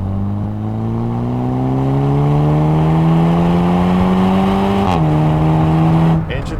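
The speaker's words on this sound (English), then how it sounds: "Engine feels good, nice smooth power band." A Volkswagen Golf GTI TCR front-wheel-drive race car on track, its engine note climbing steadily under hard acceleration, loud and close, with a brief dip at a gear change before the revs climb again.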